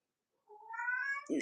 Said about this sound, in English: Come here, Ghetto Kitty, because you making too much noise, and the people gonna think you being abused